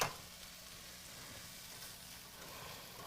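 Vegetables, some frozen and already cooked, heating in a pan with chicken and orzo, making a quiet, steady sizzle that holds evenly throughout with no voices.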